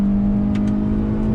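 A 2021 Hyundai Elantra's engine revs hard as it powers out of a corner, a loud, steady drone held high throughout with no voices.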